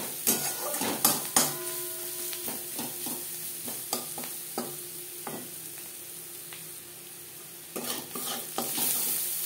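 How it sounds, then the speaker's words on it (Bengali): Onions with turmeric fry in a pan with a soft, steady sizzle, while a spoon clinks and scrapes against the pan in sharp taps, some in quick clusters, others spaced out. "পেঁয়াজ বেশ ভালো করে ভাজা হয়ে গেছে"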